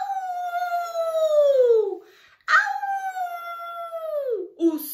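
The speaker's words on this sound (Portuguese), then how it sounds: "O som do mais belo uivo atravessou o céu noturno." A wolf gives two long, mournful howls, each starting high and sliding down before fading, with a brief pause between them and a short yip at the end.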